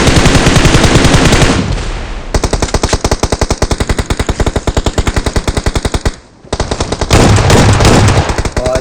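Automatic gunfire in the BGMI battle royale game rattles out in long, loud, rapid bursts, with brief breaks between strings of evenly spaced shots.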